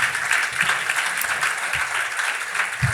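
Church congregation applauding together at a prayer vigil, a steady dense wash of many hands clapping at close range with no voices over it.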